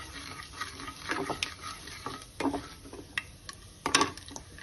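Urad dal and spices fry quietly in a pan, giving a soft low sizzle broken by a few scraping stirs and light pops, faint and close with no voices.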